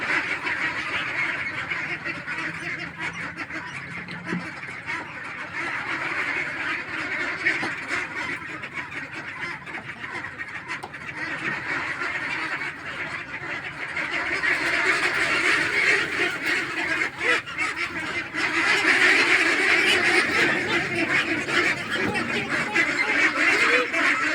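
A flock of ducks quacking and honking continuously while being fed, a dense steady chatter of many birds close by, growing busier and louder in the second half.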